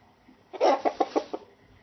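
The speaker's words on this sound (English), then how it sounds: "This is a hen." A hen clucks in a short run of about five quick, close calls, with the first note the longest and the rest clipped and evenly spaced, then silence.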